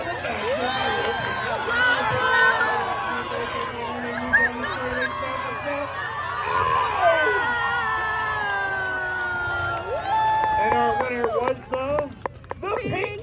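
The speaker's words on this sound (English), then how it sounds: "The more you clap, the louder you cheer." Excited crowd of children and adults cheering and shouting at a 4-H fair race, a continuous loud din of voices with shrieks, though clapping is not clearly distinct.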